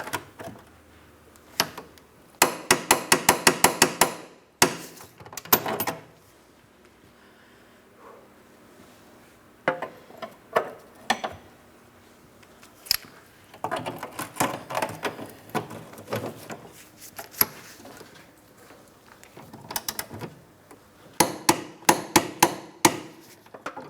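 A wrench torques the suspension bolts on the rear forward lateral links of a 2004-2008 Pontiac Grand Prix to 103 foot-pounds. Close, sharp metallic clicks and knocks come in several rapid bursts, with quieter gaps between them and no talking.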